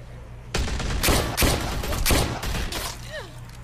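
Gunfire in the zombie video game The Walking Dead: A New Frontier, a burst of several loud shots in rapid succession over a steady low game rumble, with a brief pause between volleys.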